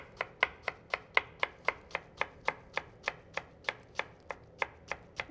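An onion being chopped with a knife on a board, about twenty sharp, evenly spaced knocks in a brisk steady rhythm, close and clear with no talk.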